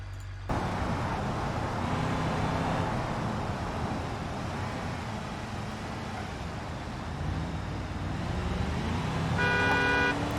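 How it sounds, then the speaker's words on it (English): Spawned traffic in the BeamNG.drive driving game rumbles past as a continuous roar of car engines and road noise, with a car horn tooting near the end and no talking. "Let's just spawn some traffic and see how this goes."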